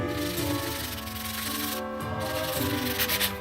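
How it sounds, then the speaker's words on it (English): An old Abingdon 6-inch wrench with a war finish is scrubbed with a Scotch-Brite pad, a steady close abrasive rubbing that continues throughout over a humming background drone. "Giving it a scrub with some Scotch-Brite here."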